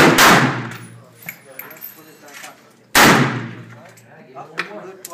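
Two loud, close AMD-65 rifle shots fired outdoors, spaced about three seconds apart, each with a sharp crack and a decaying echo tail, with brief faint talk between them.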